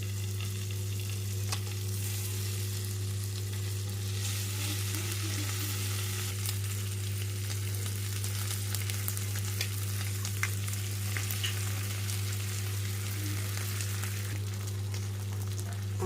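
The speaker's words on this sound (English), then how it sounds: "I'm going to add some turkey rashes." Turkey rashers frying in butter in a pan, giving a continuous close sizzle and crackle over a steady low hum, with no talking.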